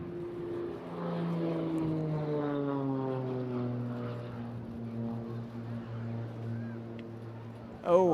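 An aerobatic propeller aircraft at the Eastbourne International Airshow dives from height and pulls up, its engine note droning and sliding steadily downward in pitch with a Doppler-like fall, a clear tone at moderate distance.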